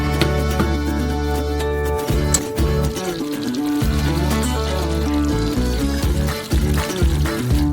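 Corn syrup and water poured into several pots on a stove for caramel, a steady, close liquid pour with trickling and filling that runs almost continuously with brief breaks.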